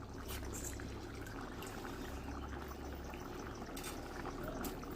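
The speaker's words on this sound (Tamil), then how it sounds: "கொதிக்கிற சவுண்டு கேக்குதா?" Water for biryani boiling in a pot with mint added, a continuous bubbling, churning rush close by, with brief brighter splashes, no voices.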